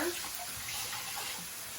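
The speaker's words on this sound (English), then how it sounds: "I'm going to use that same cup measure to add water" Water pours from a measuring cup into a pot of rice, a soft steady splashing stream that is fairly faint and continuous.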